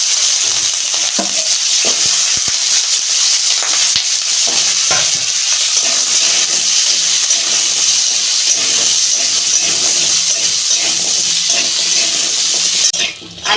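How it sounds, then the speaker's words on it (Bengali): Potatoes fry in a little oil for a Bengali potato, pointed gourd and egg dish, giving a steady, close, loud sizzle and hiss that runs unbroken for the whole stretch with no voices. "অল্প তেল দিচ্ছি, ওই তেলে আলুগুলো ভেজে নিচ্ছি।"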